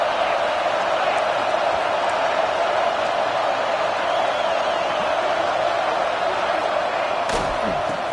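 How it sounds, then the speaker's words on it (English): A steady, dense roar from a football stadium crowd, constant and loud throughout, with a brief sharp knock near the end, and an announcer talking under the noise. "This crowd going to try to make life miserable for these guys."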